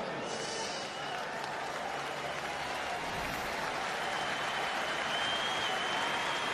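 A cricket stadium crowd applauds Shahid Afridi as he departs during a World XI vs West Indies match, a broad, sustained wash of distant clapping with a commentator's voice faintly over it.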